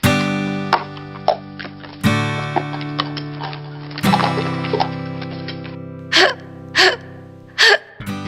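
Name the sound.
hiccup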